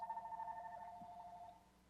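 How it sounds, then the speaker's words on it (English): A landline telephone ringing during a planning commission meeting, a steady electronic ring tone that holds for about a second and a half and then fades, moderately quiet. "Oh, sorry, my landline's ringing."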